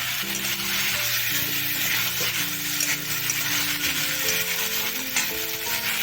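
Half a teaspoon of cumin seeds drops into hot oil for dhaba-style paneer masala, producing a constant bright sizzle and crackle, close and fairly loud.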